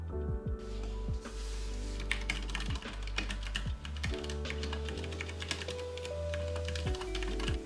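Fingers type on a 60% mechanical keyboard with MX Clear switches, a quick, irregular run of crisp, close clacks with thocky key bottom-outs and no voices.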